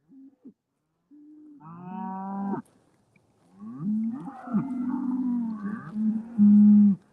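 Cows on a farm on a cold morning lowing in several drawn-out, tonal moos of varying pitch, fairly close and clear, with brief gaps between calls and the last moo the loudest.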